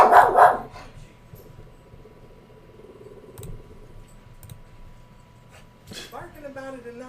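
A dog barks a short burst at the start, fairly close, then low background noise and a faint voice follow, with speech picking up near the end.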